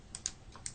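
Key presses on a graphing calculator while an equation is entered, four quick soft clicks in an uneven rhythm, close and quiet.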